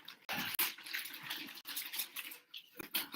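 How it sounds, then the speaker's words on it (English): Water pours and splashes in short bursts, close and fairly quiet, with brief pauses between pours and no talking. "Let me grab some more water."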